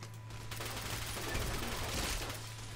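Sustained gunfire against robot soldiers in Fallout: New Vegas, a dense, steady barrage of shots over a low hum, with no distinct individual impacts standing out.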